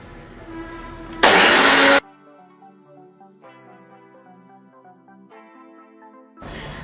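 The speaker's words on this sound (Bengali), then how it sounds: "এবার আগে এগুলাকে আমরা ব্লেন্ডারে ব্লেন্ড করে নিব।" An electric kitchen blender whirs through mint leaves, green chillies, coriander and water: a loud burst, then a steady mid-pitched motor whine with shifting tones, and a second burst at the end.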